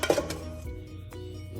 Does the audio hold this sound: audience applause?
no